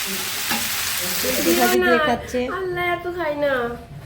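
Washed vegetable bhaji frying in a pan on the stove gives a broad steady sizzle, which gives way midway to a person talking over the cooking.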